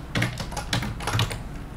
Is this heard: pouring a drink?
no